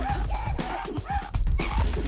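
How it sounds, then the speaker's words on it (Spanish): Dogs bark and yip in the video game Going Under. The short, repeated yaps come over game sounds and a continuous low background, close and moderately loud. "¡Ah, perros! ¡Le hacen cosas!"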